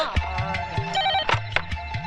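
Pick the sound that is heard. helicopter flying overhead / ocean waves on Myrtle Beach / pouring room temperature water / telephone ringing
telephone ringing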